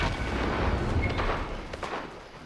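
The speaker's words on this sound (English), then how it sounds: "Going to firework launcher." Dense, booming bursts from a video game firework launcher crowd a noisy mix, with a steady rumble and a few sharper pops standing out near the end.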